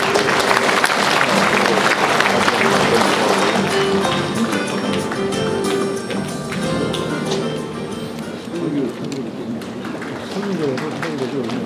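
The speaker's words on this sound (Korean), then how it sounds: "여러분 큰 박수 부탁드립니다." A crowd at a political party founding rally claps loudly, a thick burst of applause that gradually thins, with voices and some tonal sounds rising beneath the later clapping.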